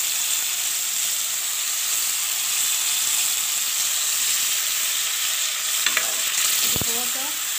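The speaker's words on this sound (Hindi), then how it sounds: "अब हम इसमें डाल लेते हैं चिकन।" Chicken pieces fry and get stirred in a pot as the base for a chicken vegetable soup, giving a steady, loud sizzle throughout with a few brief scraping stirs near the end and no talking.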